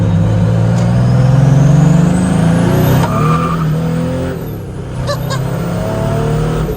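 A 500+ wheel-horsepower turbodiesel-swapped Datsun 240Z accelerates hard with its tires losing traction, a loud, sustained engine roar with rising whine and spinning-tire noise.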